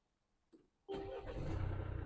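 A Mercedes GLC or C-Class diesel engine cranks briefly and catches, then settles into a steady close running idle.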